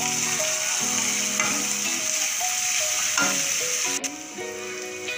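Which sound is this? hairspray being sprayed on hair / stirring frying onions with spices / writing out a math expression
stirring frying onions with spices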